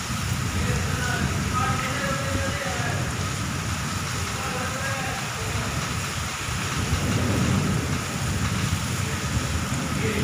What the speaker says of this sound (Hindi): मन भावक बरसात का बड़ा आनंद ले रहे थे आप